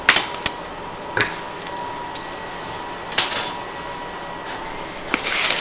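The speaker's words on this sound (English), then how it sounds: "just stir that a little" A utensil clinks against a bowl while stirring vanilla into a bread pudding mixture, with a few sharp scattered taps at irregular intervals over a quiet background.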